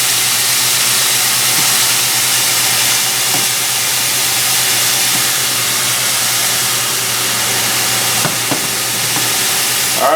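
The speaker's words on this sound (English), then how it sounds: "I'm just cooking it long enough to get a sear on each side." Venison tenderloin sears in a hot pan, giving a continuous, loud, even sizzle and hiss with a few faint clicks and no talking.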